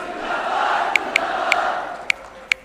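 A large crowd at a political party rally roars and chants continuously, with several sharp bright bursts standing out above the steady din.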